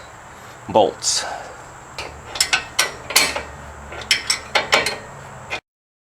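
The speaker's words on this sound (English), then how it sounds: "I can now torque down the rear and the forward bolts." Control arm bolts torqued on a 2015 Chevrolet Equinox: a wrench ratchets in quick bursts of clicks, with a clunk early on, then runs of sharp clicking close up before it stops.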